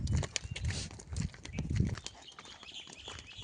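Tired bullocks on a farm shuffle and stamp close by, with dull rhythmic thuds of hooves and low animal sounds over a faint outdoor background.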